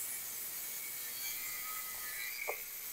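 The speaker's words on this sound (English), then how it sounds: "so I'm just cutting up this little piece of tubing." A small piece of metal tubing being cut for a homemade hinge while building a blacksmith forge from scrap, heard as a steady high-pitched whining grind, fairly faint and continuous, with no talk.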